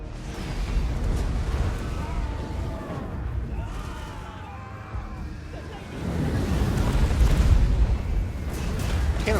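Cannon fire and battle noise from a Total War Warhammer fight with Empire forces rumble continuously as heavy, booming roars, swelling louder toward the end, with a voice calling out faintly underneath.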